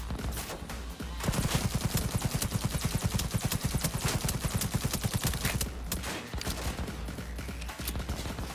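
Rapid automatic gunfire from a weapon in Cyberpunk 2077, a fast steady stream of shots lasting several seconds, then trailing into scattered bursts and game ambience.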